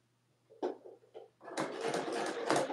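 A domestic sewing machine with bobbin trouble starts in a few short uneven bursts, then runs steadily and loudly for over a second, a dense close mechanical whirr with no talk.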